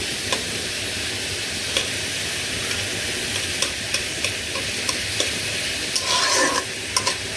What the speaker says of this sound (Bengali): এই যে ভাজিটা হয়ে গেছে ধনিয়া পাতা দিয়েছি